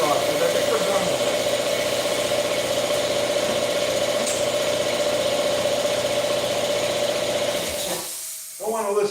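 An air compressor runs loudly and continuously in a fabrication shop with a steady droning hum, then shuts off near the end, leaving quiet with a voice speaking.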